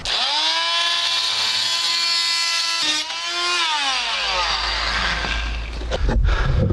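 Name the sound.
Parkside multi-tool plunge cutter cutting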